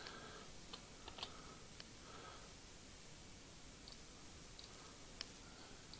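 Faint, scattered keystrokes on a computer keyboard during game development work, a few light clicks spread over a quiet background hiss, no one speaking.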